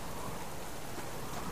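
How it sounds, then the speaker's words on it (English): Heavy rain from a storm in the Subsistence video game pours down in a steady, loud hiss with no break. No voices or other sounds come through. "It's dark. It's raining. It's storming."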